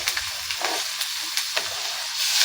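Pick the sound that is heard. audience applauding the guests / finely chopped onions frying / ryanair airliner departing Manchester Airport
finely chopped onions frying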